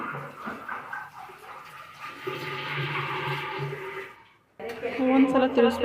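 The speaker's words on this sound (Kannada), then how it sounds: "ಈಗ ನೆನೆಸಿರೋ ಅಂಥ ಅಕ್ಕಿನ ಎಲ್ಲನೂ ಸೇರಿಸ್ಕೊಳ್ತಾ ಇದ್ದೀನಿ." Soaked rice is tipped into a pot of mushroom biryani with a rushing, watery pour. After a short gap comes a louder, clattering spill of grains against the pot.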